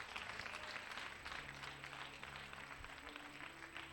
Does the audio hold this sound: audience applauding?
yes